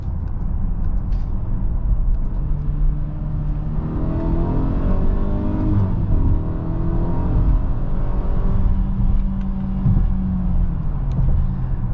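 A 2023 Mercedes-Benz GLE 350 SUV with a 2.0-litre turbocharged engine accelerates, giving a steady, smooth engine drone and rising whir with road rumble, heard continuously from inside the cabin with no talk.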